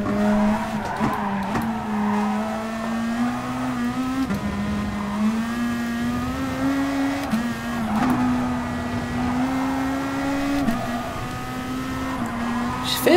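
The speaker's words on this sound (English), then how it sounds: "Fair bit of hard work muscling these GR2 cars around this track." GR2 race cars howl around a circuit in the GT Sport racing game, one engine droning steadily with repeated pitch shifts through gear changes and tire squeal through the corners, loud and up close.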